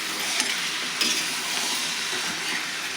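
Garam masala spices frying in hot oil in a pan for a North Karnataka special masala, a steady close sizzle with light stirring scrapes and small pops throughout.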